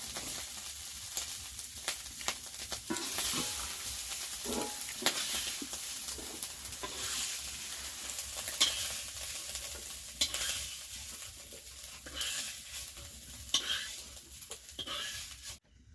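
Onions frying in hot oil while being stirred, a continuous moderate sizzle punctuated by repeated scraping stirs across the pan, fairly close and steady for a long stretch.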